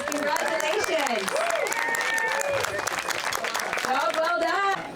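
Outdoor crowd applause for finishers of a trail race at an ecolodge in Mattawa, Ontario, steady dense clapping for about five seconds with a voice shouting over it.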